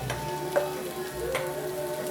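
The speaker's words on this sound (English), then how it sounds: "Here, that's already sizzling." Ground beef with garlic and onion sizzling in a pan, a steady close frying crackle with faint stirring scrapes.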